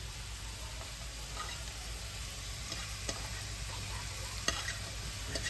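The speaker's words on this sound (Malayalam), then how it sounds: "നമ്മൾ നേരത്തെ അരിഞ്ഞു വെച്ച ഇഞ്ചിയാണ് ഇട്ട് കൊടുക്കുന്നത്." Chopped ginger sizzles in a hot pan with a steady frying hiss. Faint stirring scrapes and a few small clicks come through, with no one talking.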